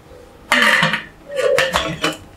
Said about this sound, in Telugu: దానిలో ఇందాక వేసుకున్న ఇడ్లీల స్టాండ్ని ఈ విధంగా పెట్టుకుని ఒక 15 మినిట్స్ ఉడికించుకోవాలి.